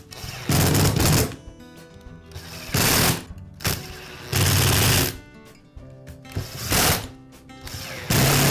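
Screws being driven back into the housing of a DeWalt chop saw, a series of short buzzing, ratcheting bursts separated by pauses, loud and close with no talking.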